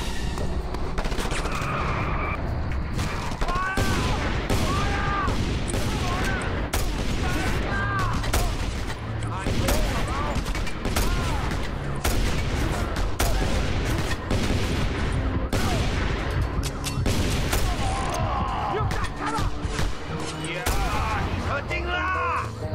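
An automatic shotgun fires over and over in the action game Just Cause 2, dense rapid blasts with booms that run nonstop for the whole stretch, mixed with other game sounds and a voice talking.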